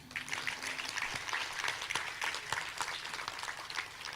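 Steady, moderately faint applause from an audience for a minister at a dairy conference, many hands clapping continuously in a hall, with a bit of indistinct voice at the very start.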